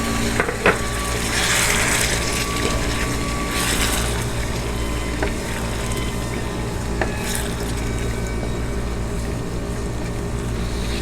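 Chicken pieces cooking in a pan with a cup of yogurt for white chicken korma, giving a steady close sizzle and bubbling with occasional clinks and stirring scrapes, and no speech.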